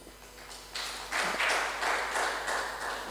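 An audience claps its hands at an evening relationship talk. Scattered claps build quickly into steady, fairly loud group clapping that holds to the end.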